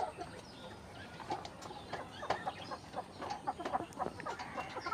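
Quails kept on a small farm, producing faint, scattered short chirps and clucks with soft background rustle, fairly distant and quiet.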